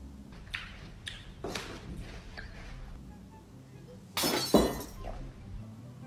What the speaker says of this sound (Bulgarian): Да ли щупи чашата?